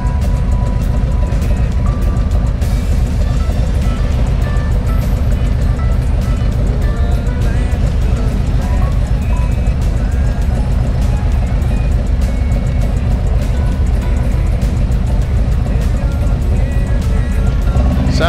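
A motorcycle exhaust with a loose piece of catalytic converter rattling in the pipes, a loud, steady engine drone heard up close while riding on the road, continuous throughout with a faint rattly edge.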